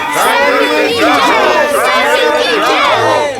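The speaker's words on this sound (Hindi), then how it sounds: "भीड़ में खुशी की लहर दौड़ गई" A crowd of villagers cheers and shouts together over the defeat of a dragon, a dense, steady swell of many overlapping voices that stays loud and close throughout.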